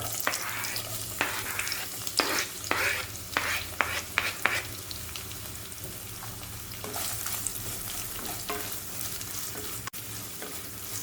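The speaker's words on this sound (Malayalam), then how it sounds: "കുറച്ച് ഓയിൽ ഒഴിച്ചു കൊടുക്കാം അരിഞ്ഞു വെച്ചിരിക്കുന്ന പച്ചമുളക് അതിലേക്ക് ഇട്ട് കൊടുക്കാം സവാള കൂടി ഇട്ട് കൊടുക്കാം" Chopped green chillies and onion fry in oil for Kerala-style tomato rice: a soft, steady sizzle with a burst of clicking stirs early on, then quieter even frying and one sharp tap near the end.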